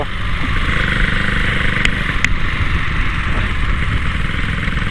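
A Honda Wave 125 motorcycle engine drones loud and steady while riding along a road, with a constant close hum and rumble and no pauses.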